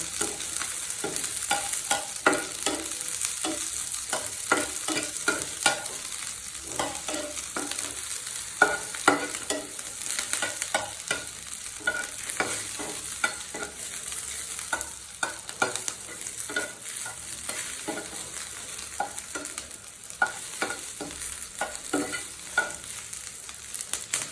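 Garlic fries in hot mustard oil, a steady close sizzle broken by frequent scraping stirs and soft clinks of the spoon, with no voices.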